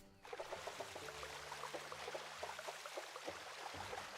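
Water pouring and trickling as a makeshift sprinkler system fills in a video game, a steady faint stream starting abruptly with dripping splashes over a low hum.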